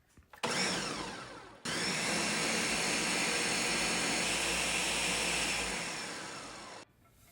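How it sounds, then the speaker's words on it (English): Blender pureeing cooked asparagus soup, a brief start-up whir then a loud steady high-speed motor roar for about five seconds before cutting off. "Blend it."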